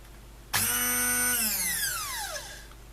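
A repaired Redmond RHB 2916 hand blender kicks on in turbo mode with a loud, high motor whine that holds steady and then slowly drops in pitch as it spins down.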